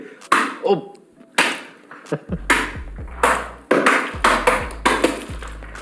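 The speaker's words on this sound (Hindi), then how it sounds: "जिसमें वो फोन से अखरोट तोड़ रहे थे" A smartphone is used to smash walnuts, giving a series of sharp cracking impacts in uneven bursts, close and loud, with voices and ringing tones between the hits.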